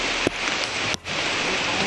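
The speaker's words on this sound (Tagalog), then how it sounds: "Ito, super lakas talaga ng ulan tol." Heavy rain falling steadily in a dense, loud wash on a mountain, with a couple of brief sharp breaks in the roar.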